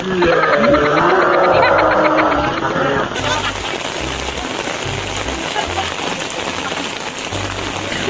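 Heavy rain pours steadily and close by, a dense hiss throughout, with a voice briefly heard over it at the start.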